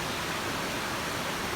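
A waterfall on a Kauai hiking trail, reached 3.5 miles in, makes a steady, dense roar of falling water that fills the whole clip without a break and with no voices.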